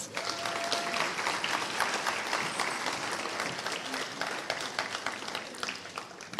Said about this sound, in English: Applaud Del Rosa, please.